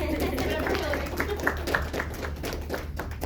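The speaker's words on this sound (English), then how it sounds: "Do we give you a round of applause first?" Scattered light clapping from a small audience greets a student's personal purpose speech in a class setting, with voices talking over the uneven patter of hands.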